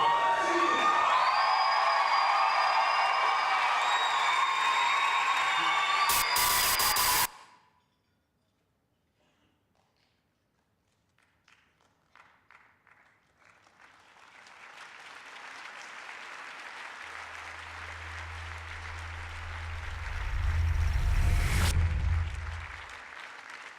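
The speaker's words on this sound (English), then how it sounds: "you are applauding his courage and satire" Award ceremony audience applauding and cheering loudly at first, then cutting off to near silence before a softer swell of crowd noise and applause builds again with a low rumble.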